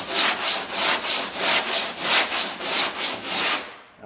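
Steady back-and-forth block sanding across a classic Corvette body panel in a cross-hatch pattern, about nine rhythmic hissing abrasive strokes, close and loud, stopping near the end.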